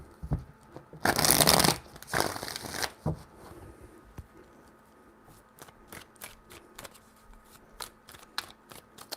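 Tarot cards being shuffled by hand: two dense, papery riffling bursts early on, followed by scattered light taps and clicks as the deck is squared, close and fairly quiet.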